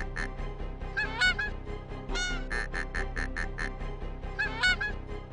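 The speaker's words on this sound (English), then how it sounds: "Oh, the geese are part of the music," Goose honks in the Golf Story video game soundtrack, bursts of bright honking notes woven into the music's rhythm, repeating in short clusters over steady background tones.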